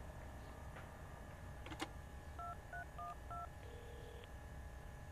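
Keypad tones dial a telephone in the game Prison Break: The Conspiracy. A rapid run of short, quiet beeps is followed by a longer tone, over a low background hum.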